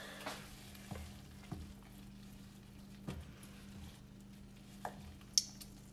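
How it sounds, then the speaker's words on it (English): Beef sausage fries in a pan and is stirred, a faint background sizzle punctuated by several soft scraping stirs and a light clink, quiet and without talk. "But I'm gonna stir this just in case."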